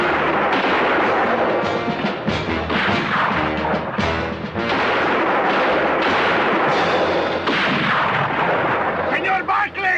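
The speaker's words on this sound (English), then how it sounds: "Use the rifle." Rifle gunfire in a 1960s Western drama, a dense barrage of loud, sharp overlapping shots and echoing cracks that continue throughout the scene, with voices faintly mixed under the blasts.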